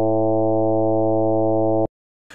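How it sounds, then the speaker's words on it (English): Synthesized oscillator sync tone with a reedy, electric-organ timbre, holding one steady loud note for nearly two seconds before cutting off abruptly, followed by a brief click. "What we hear is a sort of electric organ sound."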